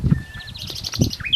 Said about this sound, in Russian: Поют птички.